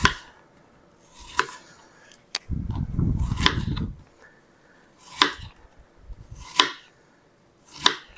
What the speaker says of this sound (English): So I usually just cut along the side of the core like that